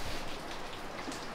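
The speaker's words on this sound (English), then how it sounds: "So it's just started raining." Rain patters on the deck and covers of a yacht as a shower begins, a steady dense hiss of drops close by with no voices.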